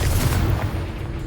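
A Confringo blasting spell explodes in the Hogwarts Legacy video game, a loud, deep boom with a rumbling tail that fades over about a second.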